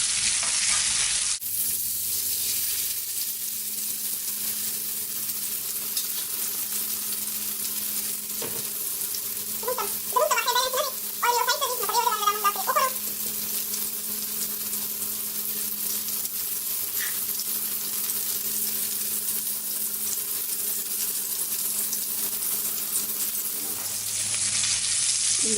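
A chapli kebab fries in a pan with a steady, loud sizzle that runs throughout, with a brief stirring or shifting noise partway through.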